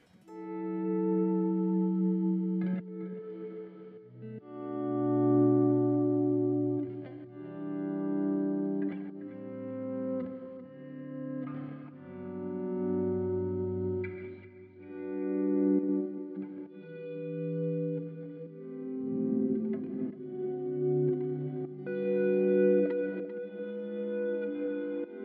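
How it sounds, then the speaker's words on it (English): A clean electric guitar plays slow chords and single notes through a Line 6 DL4 MkII pedal on its Plateaux reverb, each ringing out into a long, washy reverb tail that fills the gaps between phrases. "let's bring in a reverb"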